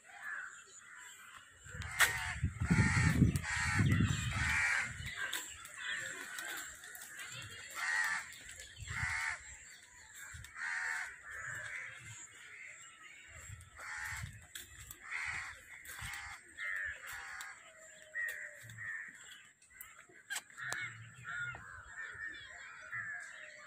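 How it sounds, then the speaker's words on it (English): Repeated harsh caws from several black crows, some near and loud, others farther off, over steady outdoor ambience in India with occasional low rumbles. "You see a lot of black crows over there."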